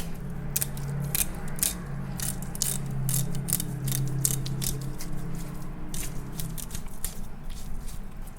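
A knife cuts through the tail of a steelhead trout, giving a series of close, crisp crunching snips and clicks over a steady low hum, with no talk.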